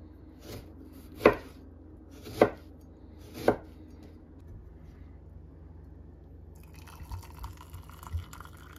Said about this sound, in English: we're just going to chop a lemon